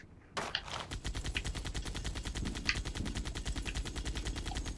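Video game gunfire rattles in a fast, steady automatic burst through most of the clip, after a short quiet start, with a few louder blasts that may include a grenade, all at moderate loudness with no talk.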